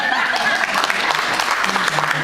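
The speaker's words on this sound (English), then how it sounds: "have all of you give them a nice round of applause" A round of applause at an award table, a steady patter of many hands clapping throughout, with voices murmuring underneath.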